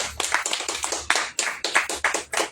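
Church congregation clapping in unison, a close, loud, rhythmic series of sharp claps at an even pace.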